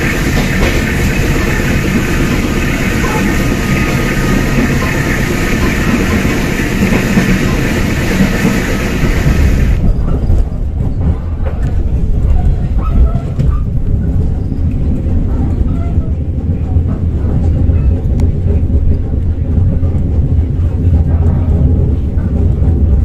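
A Sri Tanjung passenger train runs steadily on the rails, with a loud, continuous rumble and rattle that turns bright and hissy for the first few seconds, then settles into a deeper, heavier roll throughout.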